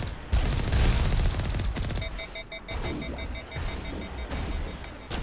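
Gunfire and explosive booms in the sci-fi shooter Mass Effect Legendary Edition, loud dense bursts in the first seconds easing into a steadier, softer rattle of combat noise with electronic tones, no speech.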